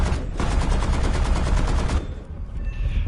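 Rapid bursts of aircraft cannon fire in War Thunder, loud and continuous for about two seconds, then a short pause and fainter firing with other game noise.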